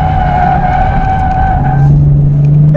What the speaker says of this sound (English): I'm going to get on the brakes, go down to 4th, let the clutch out, see how I get thrown forward